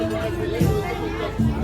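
Diners chattering in a crowd at a dinner on a cruise boat in Bangkok, a steady murmur of close and distant voices with brief louder bursts of speech.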